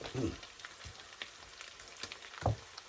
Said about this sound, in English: now we're going to add in this nice fresh sausage